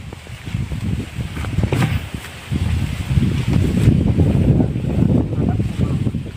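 Wind blows outdoors near citrus trees, a rough continuous rustle and buffeting that rises and falls in gusts at moderate loudness, with no talking.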